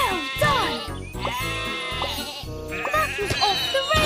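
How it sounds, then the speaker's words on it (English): Sheep bleat repeatedly in a Thomas train children's video game where they have wandered onto the tracks, with several wavering bleats over bouncy game music and a narrator's voice. "Sheep have wandered onto the tracks."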